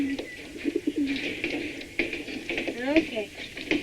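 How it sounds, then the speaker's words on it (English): Squab pigeons kept for meat in a garden coo repeatedly, close and clear, with soft rolling calls and some chirps over a low background murmur. "These birds are squab pigeons."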